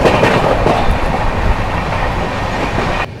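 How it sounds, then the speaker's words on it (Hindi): The 12329 West Bengal Sampark Kranti Express runs on rails near Durgapur, giving a loud, steady rumble with rhythmic clickety-clack from the wheels, heard from on board. The sound drops off abruptly at the end. "ट्रेन अपनी जो है दुर्गापुर पहुंच रही है।"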